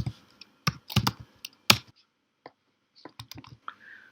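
Typing on a computer keyboard while entering a terminal command: irregular bursts of sharp, close key clicks with short pauses between them, clear and alone.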